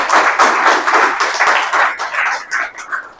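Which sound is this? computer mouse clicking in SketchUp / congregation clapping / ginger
congregation clapping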